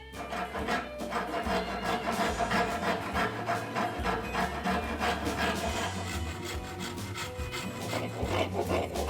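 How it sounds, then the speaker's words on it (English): A modeler's rasp, curved on one side and flat on the other, files steadily at the wood of a sculptured rocker, producing a continuous close scratchy rasping in quick repeated strokes. "This is a modeler's rasp for detail work."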